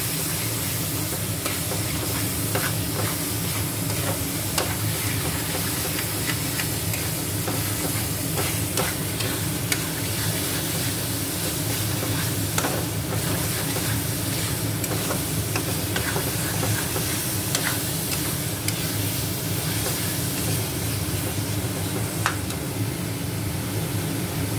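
Spices with Kashmiri chili powder sizzle in a hot pan while being stirred and mixed, a steady frying hiss with soft scraping strokes continuing throughout, close and even in level.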